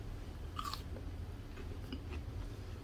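Close, quiet crunchy bites and chewing of a banana fritter, a few crisp crackles over soft background hum.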